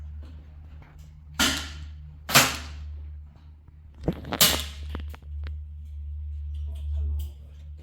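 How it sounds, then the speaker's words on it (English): Air rifles firing on an outdoor shooting range, several sharp cracks spaced a second or two apart over a low steady hum, with faint voices in the background. "You may load and commence firing."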